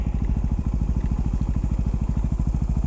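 A dirt bike engine runs close and loud with a fast, steady, throbbing chug and no voices.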